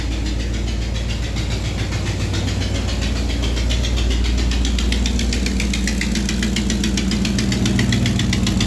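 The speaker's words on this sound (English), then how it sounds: "Yes, I have an exhaust leak." 1985 K20 truck engine idling near the microphone with an exhaust leak, a loud continuous rumble with a rapid ticking, puffing pulse throughout, no voices.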